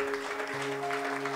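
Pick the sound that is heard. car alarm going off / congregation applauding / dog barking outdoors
congregation applauding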